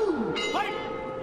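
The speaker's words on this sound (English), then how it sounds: "The bell in round two, Nieky the Natural, Holzken" Ring bell at a GLORY kickboxing event in Tokyo, struck to open round two, a single bright ding that rings out briefly over steady arena noise.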